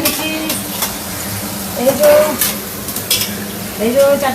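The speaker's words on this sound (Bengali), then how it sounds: "এই ভাজা আমিও করছি" Oil sizzles in a pan as food is fried and stirred during large-scale home cooking for a religious festival, with spoon scrapes and clinks recurring over a steady hiss.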